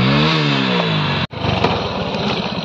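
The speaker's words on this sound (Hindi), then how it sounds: "स्प्लेंडर का भी साउंड सुन लो गाइस।" A Hero Splendor motorcycle engine runs nearby outdoors, revving with a rising whine, cutting out for an instant, then settling into a rapid, loud idling chug.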